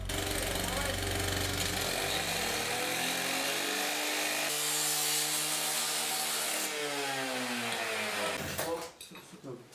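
A chainsaw cuts through a metal pipe during a rescue after a road crash, a loud steady whining roar with shifting pitch that holds for most of the clip and then breaks off near the end.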